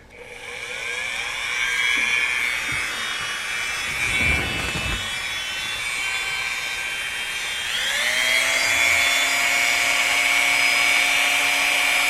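A Dremel rotary tool carving a wooden anglerfish lure: a high steady whine that dips briefly as it bites into the piece, then rises in pitch and runs on, loud and close.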